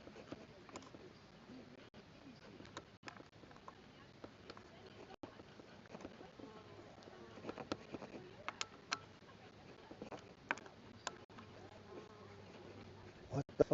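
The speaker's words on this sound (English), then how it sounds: "What the fuck do you want with me, bee?" A bee buzzing around someone tightening bolts outdoors off-grid, a faint continuous drone over scattered clicks and handling knocks, with a voice speaking now and then.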